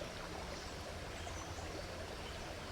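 Creek water runs over rocks in a forest tributary of the Great Miami River, a steady, soft, continuous rushing wash at moderate distance with no voices.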